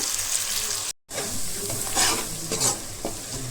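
Onions and green chillies fry in a pan toward golden brown for an Andhra chicken curry, a close steady sizzle broken by stirring scrapes and one brief dropout.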